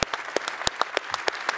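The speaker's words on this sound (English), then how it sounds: "I think that's worth a round of applause" An audience at a conference keynote claps in applause, quick irregular claps that stay fairly close and steady throughout, with no speech over them.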